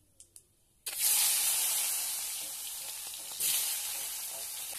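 Salted raw mango pieces drop into hot oil with five-spice tempering, setting off a sudden loud hiss that rises, settles into a steady sizzle, then surges again, after a few quiet clicks.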